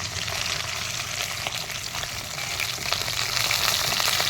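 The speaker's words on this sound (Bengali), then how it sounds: "তেলটা আমার গরম হয়ে গেছে কাঁকড়াটা আমি তেলের উপরে দিয়ে দেবো" Crab frying in hot oil gives a loud, continuous, close hiss and crackle that stays even throughout, with light stirring noises underneath.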